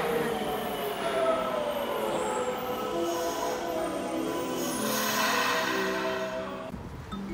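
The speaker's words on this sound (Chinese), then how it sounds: "我今天要坐地铁去附近的明成公园看一看" A Nagoya subway train runs steadily with a loud rumble and squealing wheels, holding level before easing off near the end; no voices are heard.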